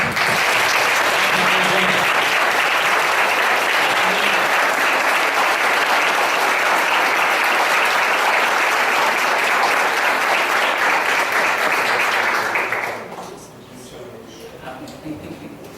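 Church congregation applauding loudly, a thick sustained roar of clapping lasting about twelve seconds before dropping off, after which a voice speaks quietly.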